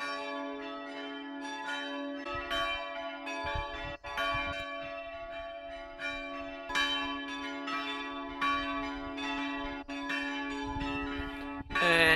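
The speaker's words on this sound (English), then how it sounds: "And that's where these bells are coming from," Church bells of the Notre Dame bell tower in Béhuard, Loire Valley, France, pealing continuously with overlapping resonant strikes and a sustained ringing tone, loud and close, with no voices.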